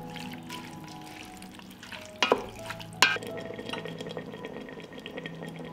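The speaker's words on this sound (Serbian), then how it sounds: "promešam i nastavljam da pržim" Steady frying sizzle of green beans with a few sharp scraping clatters of a utensil stirring in the pan, no talking.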